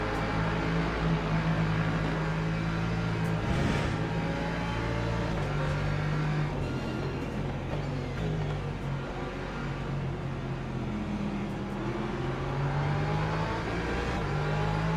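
Porsche race car engine droning steadily in Le Mans Ultimate at Daytona or Laguna Seca, a continuous loud hum with shifting pitch and no speech.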